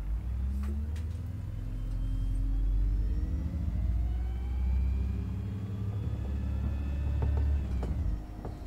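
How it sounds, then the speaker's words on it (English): An ADL Enviro200 bus in OMSI 2 pulls away hard from a stop, its engine rumbling loudly as the pitch climbs steadily through gear changes, with no talking. "It does sound good, doesn't it, when you set off from a bus stop with your foot to the floor."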